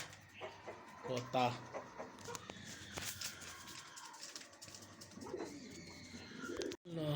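Pigeons coo and flutter in a busy coop, with scattered clucking bird calls and a voice speaking intermittently underneath, fairly close.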